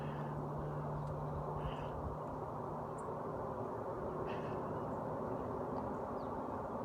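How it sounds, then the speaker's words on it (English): A low, steady rumble of a train rolling on tracks two or three miles away, muffled by many trees, runs continuously under faint bird calls outdoors. "Rolling on train tracks, but distorted through passing through many trees over across 2 miles or 3 miles"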